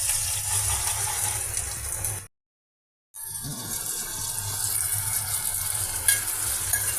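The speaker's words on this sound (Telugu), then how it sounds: "ఆయిల్లో పెద్దలపాయ పచ్చిమిర్చి ఫ్రై అవుతున్నాయండి" Onions and green chilies frying in oil with ginger paste, a steady hissing sizzle with soft stirring, cut by a sudden second of silence before resuming, no speech.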